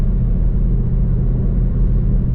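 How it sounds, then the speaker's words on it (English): A 2010 Chevrolet Camaro SS V8 with an X-pipe and NPP Z01 mufflers rumbles in a deep, steady burble, loud and close, holding an even idle-like drone with no talking. "I also did do the NPP Z01 mufflers on the back, so it gave it that little, you know, that Z01 Corvette-ish sound to it"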